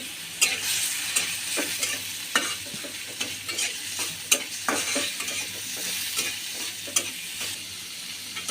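Chopped onion and slit green chillies fry in hot oil while a spoon stirs them for a taro leaf dish, a soft steady sizzle broken by frequent close scraping clicks against the pan, with no talking.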